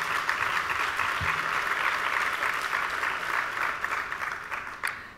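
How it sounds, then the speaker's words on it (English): A conference audience at a journalism gathering claps in sustained applause, a dense steady patter of many hands filling the room and slowly thinning toward the end, with no speech. "So a round of applause for all those folks,"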